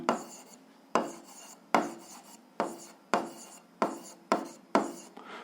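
Pen strokes writing out an algebra problem's conditions on paper, with about eight sharp scratchy bursts in a steady rhythm, close and alone with no talk.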